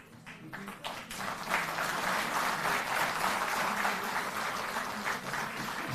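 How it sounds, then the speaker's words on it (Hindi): Applause from a large audience at a Delhi government event builds from scattered claps into sustained, dense clapping that holds steady throughout. "जोरदार ताली बजती रहे।"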